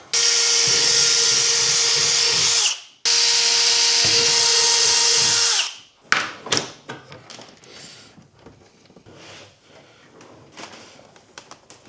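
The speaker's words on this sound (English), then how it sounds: "let's drill these holes." Power drill boring holes for a Yak Power system install near an Old Town through-hole kit on a kayak, two long steady whining bursts followed by scattered clicks and handling knocks.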